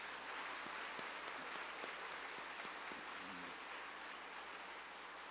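A church congregation at a Wednesday service applauds to welcome visiting middle-school students, a steady, fairly faint wash of clapping that continues throughout with a few sharper individual claps standing out.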